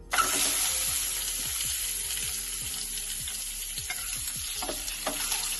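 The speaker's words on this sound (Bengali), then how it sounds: "কড়াইতে তেল দিয়ে ডিমগুলোকে ছেড়ে দিলাম" Eggs frying in oil in a wok, a steady close sizzle with repeated soft scraping and stirring strokes and a faint metallic clink, no voices.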